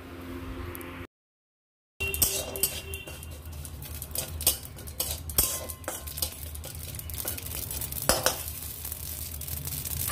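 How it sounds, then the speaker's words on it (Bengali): Poppy seeds fry in a spoonful of oil with a soft crackling sizzle, broken by frequent scraping stirs and spoon taps against the pan after a brief gap of silence at the start. "1 চামচ পোস্ত তেলের মধ্যে দিয়ে ফ্রাই করে নেব"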